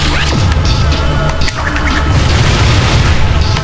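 A loud, continuous explosion in Crash Bandicoot: Twinsanity booms and rumbles, with crackling debris and scattered bursts layered over the roar.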